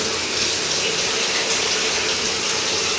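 A telephone shower runs with its newly installed water heater switched on, a steady close hiss of spraying water with no voices.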